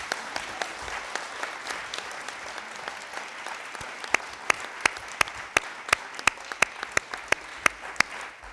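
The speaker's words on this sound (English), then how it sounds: "Let's give them a round of applause." Audience applause for the youth who organized and led an evening community forum, a dense steady patter of many hands that builds into sharper, louder individual claps toward the end, with no talking.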